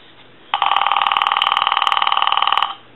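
An AT&T 530 Trimline telephone under repair, fitted with the wrong ring cycle IC, rings in one loud, continuous electronic warble of rapid trilling pulses lasting about two seconds, then cuts off, with no voices.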